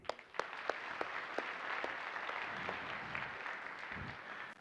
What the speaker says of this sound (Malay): Kalau korang rasa benda ni best untuk korang, tepuk tangan sikit